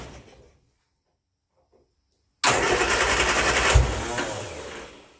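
Turner Ranger tractor engine catching and starting after a silent pause, then running loud and steady at close range with a brief surge partway through.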